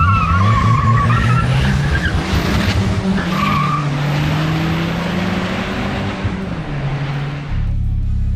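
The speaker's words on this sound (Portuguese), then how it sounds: "Vamos ver como é que vai ser essa largada aqui com o Gol" A turbocharged VW Gol, running traction control, launches hard down a drag strip: a loud, close engine roar with shifting pitch and tire squeal, held steady for several seconds, with no talk over it.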